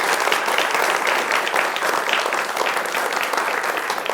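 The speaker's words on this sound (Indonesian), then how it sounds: "Tepuk tangannya teman-teman." Studio audience at an Indonesian political talk show with university students breaks into steady, loud applause that fills the whole stretch without a break.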